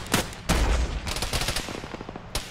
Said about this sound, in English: you're taking another shot